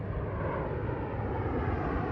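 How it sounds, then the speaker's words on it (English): A fixed-wing airplane passes overhead, a steady, loud broadband engine roar filling the whole short stretch without speech. "Plane!"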